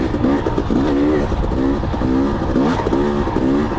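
A 250 two-stroke motorcycle engine runs steadily in third gear, its buzzing exhaust note rising and falling in a quick repeating pattern, loud and close throughout with no talk.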